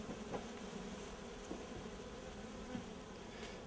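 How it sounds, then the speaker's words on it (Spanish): Honey bees buzzing as they are released from a tube while a queen is being introduced, a continuous close insect hum with a few louder passes of individual bees. "Lo que se hace es se liberan abejas, porque dentro del caño tienen que quedar muy pocas abejas."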